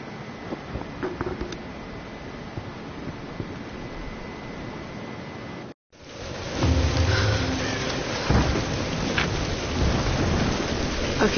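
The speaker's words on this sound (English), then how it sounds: "We're getting closer to the storm." A thunderstorm with steady heavy rain in the Tomb Raider game, a broad continuous wash of rainfall that cuts out briefly and then returns louder, with deep rumbling thunder building underneath.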